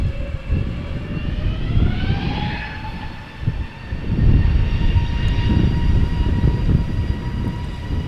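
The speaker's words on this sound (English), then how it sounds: "A320neo from EasyJet going to Manchester" An EasyJet Airbus A320neo at Amsterdam Schiphol Airport, heading for Manchester, rolls past nearby and loud. A rumbling roar runs under a rising, then steady, engine whine with clear layered tones.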